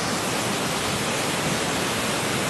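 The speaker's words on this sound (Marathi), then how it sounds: "असा हा धबधबा" The Padekap waterfall in the Konkan region during the rains, a dense, steady roar of rushing water filling the whole clip at an unchanging, fairly loud level with no other sounds.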